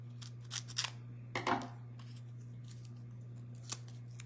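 A few quick snips of scissors cutting paper close by, spaced irregularly over a quiet background with a low steady hum.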